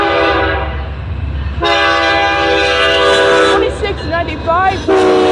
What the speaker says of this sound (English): Here it comes. Another Norfolk Southern.